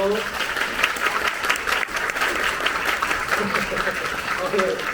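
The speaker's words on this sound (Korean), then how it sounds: "박수 쳐주세요" Audience applause for musical actors at a stage greeting event for the Korean musical Maybe Happy Ending, a steady dense clapping wash throughout with faint voices underneath.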